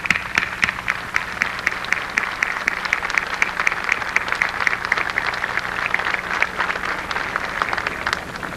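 An audience at a religious procession in Callao applauds steadily for several seconds, a dense, even clapping from a large crowd gathered around the revered image.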